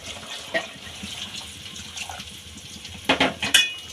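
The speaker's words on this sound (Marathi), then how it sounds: "आता आपण ह्यामध्ये पाणी टाकून घेऊया गरम" Hot water splashes and trickles into a pot of fried rice for biryani, with soft clinks of cookware and a louder burst of pouring near the end.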